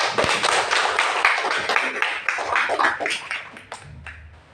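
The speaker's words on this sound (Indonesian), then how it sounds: "Bagus, tepuk tangan dulu." Students clap in a classroom during a junior Islamic school jurisprudence lesson, a dense burst of hand claps that thins toward the end, with a brief voice near the close.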